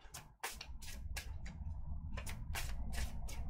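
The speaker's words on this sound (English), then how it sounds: "So, shuffling up." A deck of oracle cards is shuffled by hand, a series of crisp riffling bursts in an irregular rhythm, close and fairly quiet over a low background hum.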